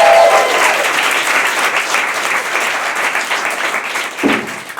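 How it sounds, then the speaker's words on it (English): A crowd applauds an animator at a live show, loud dense clapping that holds steady and softens slightly, with a short thud near the end. "Give him a big round of applause."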